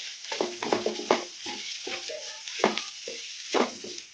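Chopped green chillies stirred into a pan of hot oil for idli upma, with a steady close sizzle of frying broken by repeated scraping, stirring strokes.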